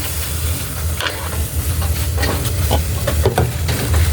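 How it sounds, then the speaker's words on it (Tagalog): Steady hiss and bubbling of water boiling in a pot for cooking pancit canton, with scattered clinks and small pops over a constant low rumble. "kumukulo na po yung tubig"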